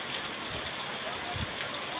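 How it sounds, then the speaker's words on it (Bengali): Steady rain at Birampur, Dinajpur falls as a soft, continuous hiss of drops on surfaces, fairly faint and even throughout, with a few low thumps underneath. "বৃষ্টির মধ্যে আটকা পড়ে গেছি"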